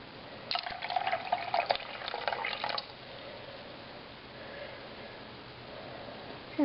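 Liquid, cabbage juice and urine, is poured together into a container, a short trickling splash lasting a couple of seconds before fading to quiet room tone with faint rustles.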